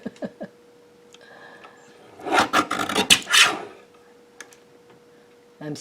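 Corner cutter trimming the edges of oracle cards during deck trimming: a cluster of raspy cutting and scraping sounds in the middle, with a few faint clicks before and after and no talk.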